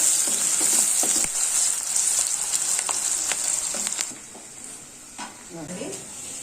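Onions frying in hot oil for a kadai chicken, a loud, continuous sizzle with stirring scrapes that drops to a softer crackle, with a brief voice near the end.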